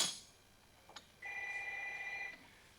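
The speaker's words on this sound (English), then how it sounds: "And there goes the phone." A telephone rings once with a steady electronic tone lasting about a second, clear and moderately loud in a quiet room, with no one talking.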